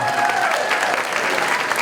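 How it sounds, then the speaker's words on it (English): An audience at an evening shopping event claps in a dense, sustained round of applause, fairly loud and even throughout the short burst. "let's give Carl a big round of applause"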